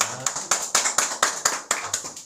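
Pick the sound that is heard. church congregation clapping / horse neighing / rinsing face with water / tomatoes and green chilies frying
church congregation clapping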